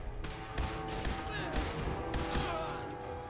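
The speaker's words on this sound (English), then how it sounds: "Can I hold down the shoot gun, chat?" Gunfire from a shotgun in the video game Fallout, a series of loud sharp blasts at irregular intervals over continuous game sound and a player talking.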